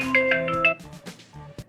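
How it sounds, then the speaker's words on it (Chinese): Electronic ringtone of an outgoing video call on a phone, a bright repeating melodic chime for most of the clip, fading into quieter tones and a short final beep. "没事，我给他打电话"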